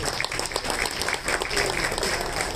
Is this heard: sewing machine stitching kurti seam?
no